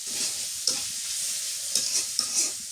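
Chili and onion sizzle in hot oil in a pan, a constant near crackle broken by several light scraping stirs, with no voices.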